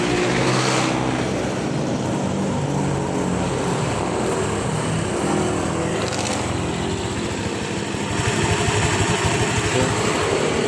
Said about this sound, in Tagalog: Mababa masyado yung idle, kaya pag gumaga, maingay siya.